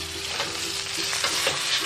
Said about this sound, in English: We're just searing it.